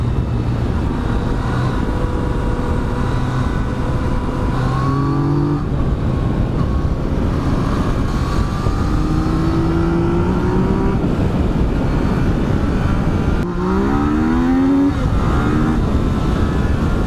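A 2018 Yamaha Tracer 900 motorcycle engine runs steadily while riding, loud and close with constant wind roar, its pitch rising and falling through several gear changes and accelerations, with no talk.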